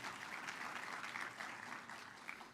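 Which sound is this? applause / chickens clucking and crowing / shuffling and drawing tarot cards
applause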